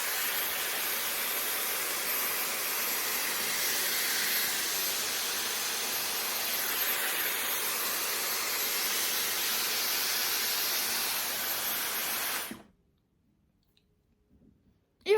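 A Dyson Airwrap hair styler blows air in a loud, steady rushing hiss close by for about twelve seconds, then cuts off abruptly into near silence.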